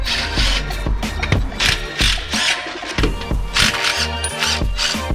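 A ratchet works on the header bolts of a Nissan 370Z, clicking in repeated short bursts of close, busy mechanical ratcheting with small pauses between strokes.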